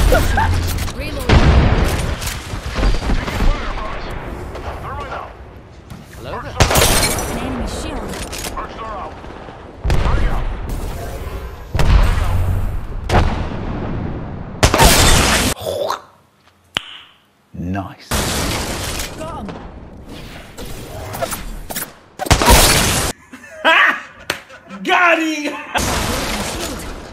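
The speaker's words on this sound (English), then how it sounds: "Tossing a grenade." Video game combat with a grenade blast and Kraber sniper rifle fire: repeated loud booming shots and explosions in bursts, mixed with game voices and other battle noise.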